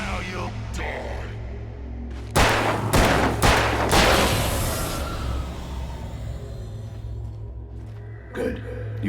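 Several sharp gunshots from a handgun in Alan Wake ring out in a quick cluster near the middle, followed by a lingering rumble over a low droning hum, with a fainter shot or impact near the end.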